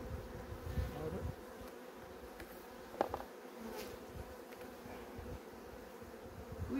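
Honey bees from a varroa-infested colony being sprayed with oxalic acid give off a faint, steady buzz, low and continuous, with a few soft knocks and no talking.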